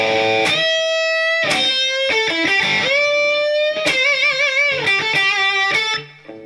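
A Tagima T900 electric guitar rings out with moderate-gain distortion, loud plucked single notes and sustained bends following one another over several seconds, with no voices.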